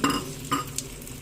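Eggplant fries in oil, heard as a soft sizzle broken by two short scraping stirs and a light clink of utensils, faint and near.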